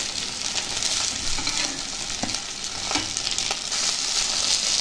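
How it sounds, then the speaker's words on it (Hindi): Poha and semolina mixture frying in a pan with cumin and curry leaves, a steady close sizzle with occasional scraping knocks from stirring and turning, no voices. "उलट पलट करके फ्राई कर लीजिए"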